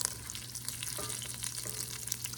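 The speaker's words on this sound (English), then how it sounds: "Ooh, hear that sizzle. Sounds so good." Food sizzles and crackles steadily in a hot pan, close and fairly quiet, with a few soft clinks of stirring.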